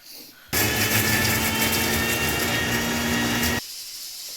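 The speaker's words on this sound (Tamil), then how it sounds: "இப்போ இதெல்லாம் போட்டுட்டு அரைச்சிக்கணும்." A mixer grinder whirs loudly as it grinds masala for mor kulambu, starting abruptly, holding a steady high-pitched motor roar for about three seconds, then cutting off cleanly with quiet room noise on either side.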